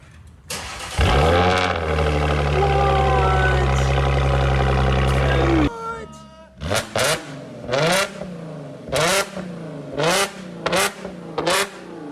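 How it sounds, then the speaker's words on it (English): An Audi car engine cold-starts, cranking and roaring to life, idling loudly for several seconds, then cuts off and gives a series of sharp revs with pops in between. "Of course, the cold start should sound good."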